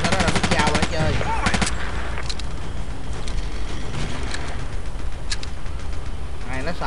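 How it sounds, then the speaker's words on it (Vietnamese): Machine gun fire in Battlefield 2, rapid bursts of automatic shots opening the scene, then scattered sporadic gunfire and battle noise, with someone talking over it. "Nó xài cây súng máy"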